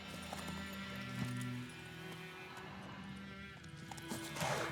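Horse hooves clip-clopping in The Witcher 3: Wild Hunt as the horse gets moving, a steady rhythmic beat under game ambience, fairly quiet with no talk.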